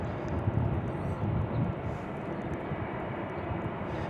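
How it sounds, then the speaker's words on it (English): Delta Airlines Airbus A320 airliner at Raleigh-Durham International Airport, heard as a steady, broad jet engine roar with a low rumble that stays fairly even and moderately loud throughout, with no talking. "This is from Orlando, an A320 as well for Delta Airlines."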